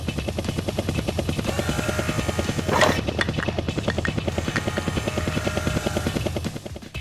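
A rescue helicopter's rotor thumps in a steady, rapid rhythm throughout, loud and close, with a brief burst of noise near the middle.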